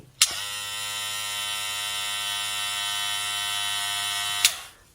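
A 1,100-baht electric hair clipper, a factory-stock unit, switches on with a click and runs at full speed for about four seconds as a steady, high-pitched motor whine before cutting off.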